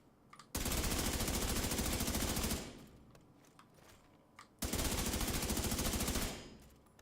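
A rifle with a laser-damage build fires two long, rapid automatic bursts in The Division 2, each lasting about two seconds, loud and close, with a quieter gap between them.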